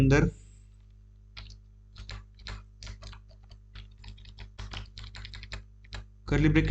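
Computer keyboard typing while C++ code is written: a steady run of quick, close key clicks in uneven bursts, with a brief spoken voice at the start and end over a low steady hum.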